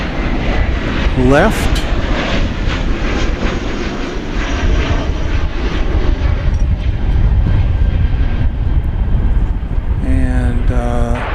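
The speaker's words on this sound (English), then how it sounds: "American Flight 72, Frankfurt is rolling down the runway on 17" An American airliner bound for Frankfurt rolls down runway 17 at DFW Airport for takeoff. A loud, steady jet engine roar fills the whole stretch while air traffic control radio voices talk over it.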